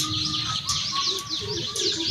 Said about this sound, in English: This is the Indian cuckoo.